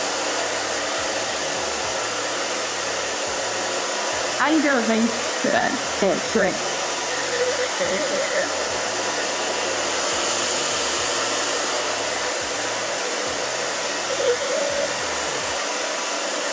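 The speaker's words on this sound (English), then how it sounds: "I'm using my fingers back and forth throughout the hair with the blow dryer" A hair dryer whirs steadily and close while styling a short pixie cut, its airflow shifting slightly as it moves through the hair, with a few brief words spoken over it.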